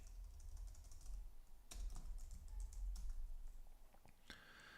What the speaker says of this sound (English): I'll type here percentage change.